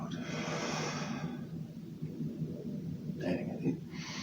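Slow, deep breathing during a standing breathing exercise, a long drawn-out exhale followed by quieter air movement and a brief further breath, close and soft.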